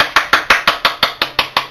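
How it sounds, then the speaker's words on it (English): Metal fork tines jabbing repeatedly into raw pizza dough rolled flat, a steady run of about ten sharp, evenly spaced taps close up with no talking. "I don't have a roller with spikes on it, so I use a fork."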